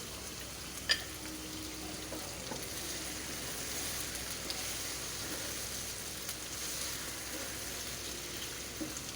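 Chicken pieces frying in a pan for Irani chicken karahi give a steady, faint hiss that runs evenly throughout, with a single sharper tick near the start.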